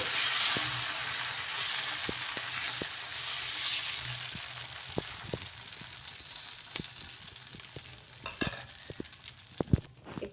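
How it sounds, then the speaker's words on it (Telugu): Tomato semiya dosa batter spreading on a hot pan gives a steady soft sizzle with scattered small crackles and ticks, close and moderately quiet, no voices. "ఇలా ఒక గరిట పిండి అయితే వేసుకొని స్ప్రెడ్ చేసేసుకోవాలి"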